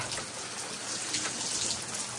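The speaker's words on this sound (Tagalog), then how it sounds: "Lakas lang ulan, no?" Heavy rain falling steadily outdoors during a downpour at a pigeon loft, a dense continuous hiss of drops close by with no pauses.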